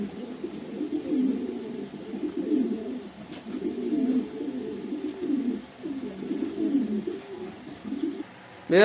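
Pigeons, including racer, satin and Sirajee breeds, coo continuously in low throaty bursts, several birds overlapping at close range with brief pauses between phrases.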